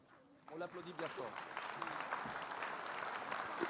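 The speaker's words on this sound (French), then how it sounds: "On l'applaudit bien fort." A ceremony audience breaks into steady applause at a French town's New Year address, the clapping swelling after a short spoken introduction and holding on densely to the end.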